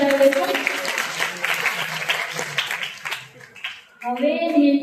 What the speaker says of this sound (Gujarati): જોરદાર તાળીઓ બજાવીશું.